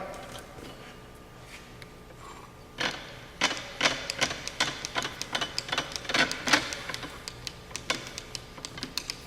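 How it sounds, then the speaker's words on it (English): Crank handle being turned to lower the cylinder of a crimper, heard as a rapid run of close mechanical ratcheting clicks that starts after a short quiet spell and keeps going steadily. "So I'm just cranking the crank handle, lowering the cylinder, the whole crimper down."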